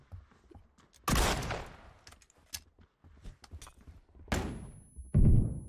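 Grenade blasts in the PUBG battle royale shooter hit as two heavy booms, one early and one near the end, loud and close with decaying rumble, amid scattered thuds and clicks.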